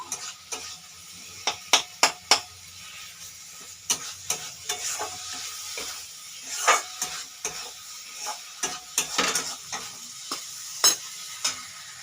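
Mushroom curry sautéed in a pan, with an irregular series of sharp spatula scrapes and taps against the pan over a low sizzle, close and with no talking.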